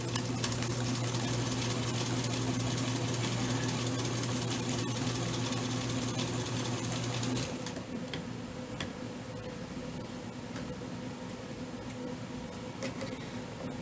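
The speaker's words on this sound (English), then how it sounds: "I'm going to go ahead and use a 1/2 inch seam allowance." A sewing machine stitches a half-inch seam on a fabric thread-catcher bag piece, running with a steady, rapid mechanical hum and tick for about seven seconds, then stopping and leaving quieter background noise.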